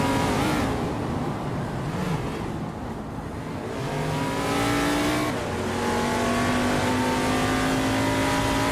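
Race cars roar through a racing video game, engines droning loud and steady as they rev and shift, the pitch climbing and dropping with each gear change, with no voices over the noise.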